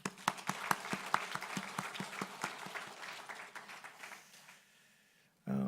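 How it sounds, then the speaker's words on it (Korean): Applause from a church congregation during a Sunday sermon, a dense run of claps that swells then gradually thins and fades out over several seconds, with a brief sound cutting in at the very end. "우리 그분들을 향해서 박수 한번 할까요?"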